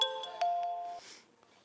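A short electronic melodic ringtone for an incoming phone call, clear tonal chimes with a few bright notes, ringing alone and then cutting off after about a second.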